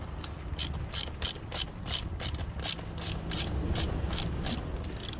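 A ratchet clicks rapidly in short regular bursts while loosening 8mm bolts on an Audi airbag cover, close and crisp over a faint background rumble.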